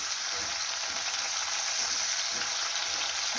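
Pak choi (Chinese cabbage) fries over high heat in a pan while being stirred, a steady loud hissing sizzle with faint scraping underneath, close and continuous, without talking.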